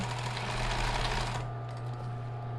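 A sewing machine stitches a nursing bra strap with a fast, steady whirring buzz that runs for over a second and then stops, leaving a faint motor hum.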